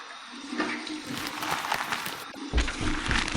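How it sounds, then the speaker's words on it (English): Cold water runs from a tap for a face rinse after shaving, a loud, continuous rushing stream that surges and splashes louder toward the end. "here's my cold water rinse to close my pores."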